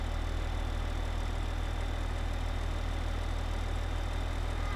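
A tractor in Farming Simulator 15 labours uphill with a big trailer in tow, giving a steady, loud, low engine drone that holds constant throughout with no pauses.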